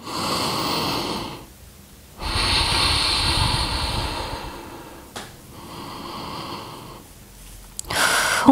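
Slow, audible breaths during a yoga flow: long hissing inhales and exhales close to the microphone, in two or three cycles separated by brief quieter pauses, with no talking.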